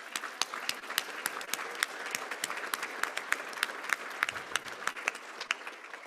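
An audience applauds at a Rotary reading program presentation, scattered distinct claps forming a sparse, fairly quiet round of applause from a modest crowd, heard on its own without talk.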